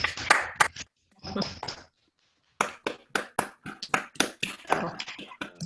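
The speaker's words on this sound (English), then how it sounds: "can we give them a round of applause?" Scattered clapping from a few participants on a Zoom call, a short thin burst of uneven claps, then a pause, then a steadier run of individual sharp claps close to the microphone.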